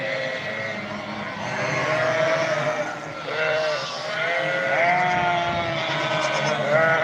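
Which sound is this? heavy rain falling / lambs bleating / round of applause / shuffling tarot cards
lambs bleating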